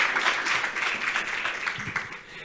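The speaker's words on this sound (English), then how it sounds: "Yes, that's your applause." Applause from a forum audience at an EU regional strategy event, a steady wash of many hands clapping that runs the whole time at moderate distance and fades slightly near the end.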